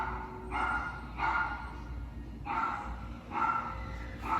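Several dogs barking in repeated bursts at a moderate distance indoors, four clusters of barks separated by short gaps.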